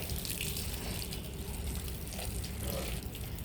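Water sprinkled over potted tomato plants, a steady close splashing and pattering spray that runs without pause at moderate loudness.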